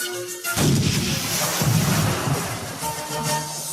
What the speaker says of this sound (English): The Nautilus shook from the explosions of the cannonballs in the water